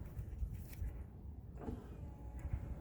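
A car power window motor, disconnected and wired straight to a battery with clamps in reversed polarity, runs as a faint, steady whir for a few seconds with a slight shift partway through.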